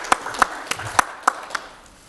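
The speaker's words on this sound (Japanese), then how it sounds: "じゃあ大場先生にまたもう一度拍手をよろしくお願いします" A handful of sharp, separate hand claps from a lecture audience ring out in a quiet room, about six spaced hits that thin out and fade quickly.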